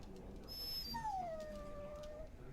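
A dog in Dragon Age: Origins whines with a long, high, falling whimper that drifts downward and trails off, heard up close over a steady low background hum.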